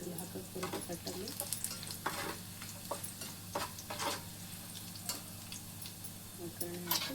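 Onion and curry leaves sizzle and crackle in a pan for a Kannada-style chicken tempering, with steady frying hiss, scattered pops and occasional stirring clicks, fairly close and moderately loud.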